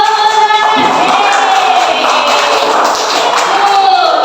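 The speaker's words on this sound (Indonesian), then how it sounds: "tepuk tangan dong untuk kelompok" A classroom of students clapping for a student group, a dense, loud burst of applause mixed with excited children's voices and shouts throughout.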